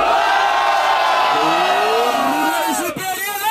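Crowd at a street rap battle cheering, whooping and yelling loudly together, a dense roar of many voices close by.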